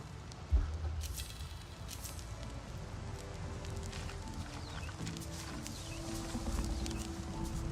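Heavy hooves of a dire horse in Avatar Frontiers of Pandora thud in a steady clip-clop rhythm over a low game ambience, moderately near and fairly quiet.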